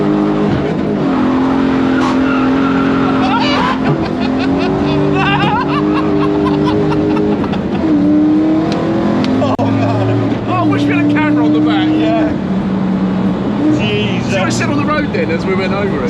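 A Ford Transit van with a BMW V8 swap drifts hard, its engine roaring and its tires squealing in long, sliding wails, loud and close, while people talk and laugh throughout.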